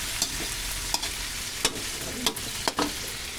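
A spoon scrapes and stirs string beans and squash simmering in coconut milk, soft bubbling under a handful of sharp clinks against the pot.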